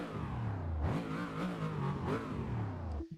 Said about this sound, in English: Like it's got kind of a dark V8 rumble as opposed to like a kind of the aggressive middle pitch of a flat 6.